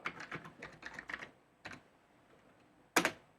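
Code being typed on a computer keyboard: quick bursts of close, crisp key clicks, a pause, a few more taps, then one sharp louder keystroke near the end, with no talk.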